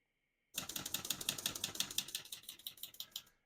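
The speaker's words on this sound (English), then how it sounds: "We're going to keep that on single for now and finish typing." Rapid, steady keystrokes on a 1965 Olivetti Lettera 32 portable manual typewriter clatter close by in an even rhythm, each strike sharp and percussive, with no voices.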